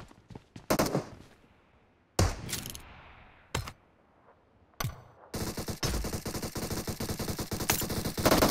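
PUBG Mobile team deathmatch gunfire comes first as separate loud shots and bursts with quiet gaps. It then turns into a sustained, rapid automatic stream of fire close up, with no talking.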